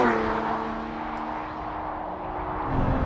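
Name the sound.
Lotus Emira V6 engine sound while driving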